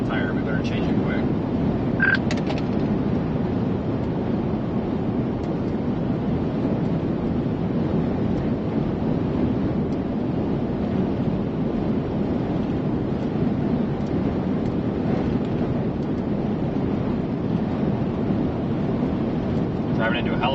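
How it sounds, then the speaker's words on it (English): A strong headwind buffets a car while driving, making a steady, loud low roar of wind noise and road rumble that persists throughout without a break. "Driving into a hell of a headwind here."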